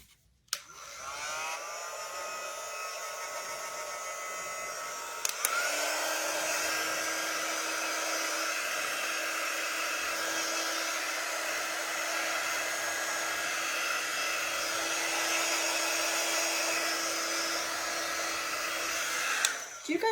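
Handheld heat tool blowing steadily for about fifteen seconds to dry a crafted Snoopy hearts lantern, a loud, even, close whirring drone that starts with a click and runs alone without talk.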